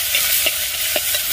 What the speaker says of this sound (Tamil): இப்போ நல்லா வதங்கி வரட்டும்.